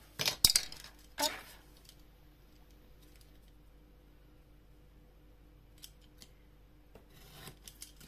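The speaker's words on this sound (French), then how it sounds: "Et je coupe juste un tout, la petite pointe" Scissors snipping paper for a pop-up Christmas card with a photo, a few close, quiet cuts clustered at the start, then near silence with faint handling noises.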